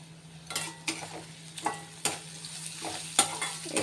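Onions fry with salt and turmeric in a frying pan under a soft steady sizzle, broken by several distinct stirring scrapes and taps of a spoon, close and moderately loud, with no speech.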